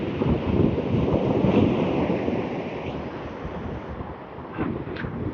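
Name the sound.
southeasterly breeze blowing at the coast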